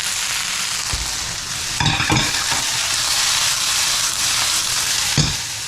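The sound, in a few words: onion added to cauliflower sizzling in pan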